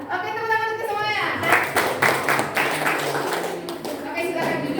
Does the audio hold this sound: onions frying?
no